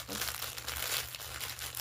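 Plastic packaging being torn open and crinkled up close throughout, a busy rustling texture with a person talking over it.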